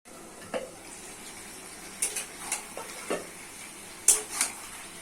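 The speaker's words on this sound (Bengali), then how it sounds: "এইভাবে চামচোমড়া আলু এইভাবে কষে কষে রান্না করে নেব" Ash gourd and potatoes are sautéed and stirred in a pan with dried shrimp, and a spoon scrapes and clanks now and then over a faint, steady background sizzle.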